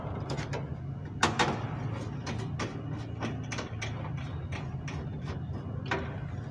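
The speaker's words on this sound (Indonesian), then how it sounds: "Kita pasangkan baut yang pertama." Mounting screws being turned into a motherboard during a PC build, a sparse series of small clicks and ratcheting ticks, close and quiet over a low hum.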